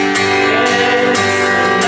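Acoustic guitar chorus of the worship song "Christ Is Enough" strummed in a repeating pattern, with steady sustained chords and clear strokes, heard alone and close.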